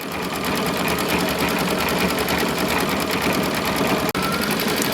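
An embroidery machine sews a cover stitch over a trimmed flower design, its needle hammering in a fast, steady, close mechanical rattle with one sharp momentary break near the end.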